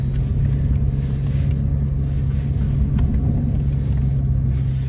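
A vehicle drives along tracks on a snowy taiga road in spring, its engine a steady low rumble throughout, fairly loud and unbroken, with no talking.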